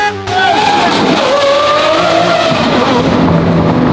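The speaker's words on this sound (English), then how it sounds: "nothing beats the sound of this engine with this exhaust." A Lamborghini Aventador SVJ engine with a Gintani F1 exhaust and flame tune roars loudly and continuously, its pitch sliding up and down through gear changes with a harsh, raspy exhaust note.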